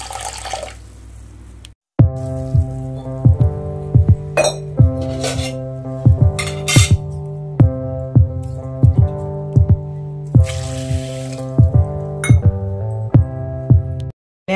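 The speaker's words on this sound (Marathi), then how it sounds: "आपण ह्याच्यात आता पाणी घालून घ्यायचं आहे।" Water pours into a pressure cooker holding mung beans, a close, steady splashing stream punctuated by rhythmic metallic clinks and clanks of the pot throughout.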